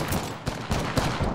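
Bursts of automatic gunfire in the battle royale shooter Apex Legends, several rapid volleys crackling close and loud over roughly a second and a half, with no talking.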